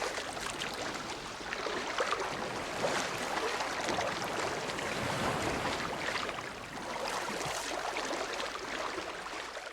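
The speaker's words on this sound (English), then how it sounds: "enjoying the sounds of the water and the birds around me" Steady broadband wash of water on Rum Point beach, Grand Cayman, continuous and moderately loud with gentle surges, waves rolling in close by with no voices.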